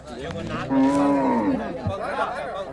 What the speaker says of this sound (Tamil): இன்னொன்று மாடு